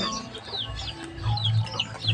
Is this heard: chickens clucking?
yes